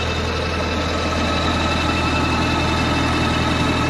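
A Mahindra 45 HP tractor engine runs steadily, driving a PTO generator, with a constant low throbbing drone and a mechanical hum that holds even throughout at close range.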